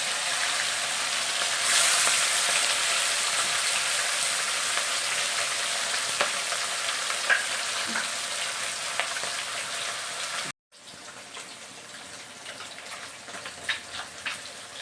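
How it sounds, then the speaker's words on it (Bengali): Rohu fish pieces fry in hot mustard oil in a Bengali kitchen, giving a loud, steady sizzle with a brief cutout near the end before the crackling resumes, with no talking. "মাছ কটা সব আমি এখন ভেজে নেব।"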